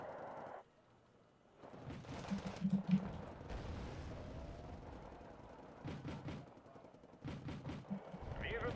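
Automatic weapons fire in the war strategy game Wargame: Red Dragon, with bursts of machine-gun shots and sharp cracks coming in clusters, some louder and nearer than others, alongside someone talking.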